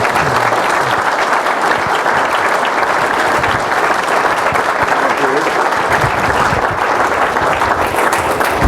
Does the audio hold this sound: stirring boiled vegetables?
no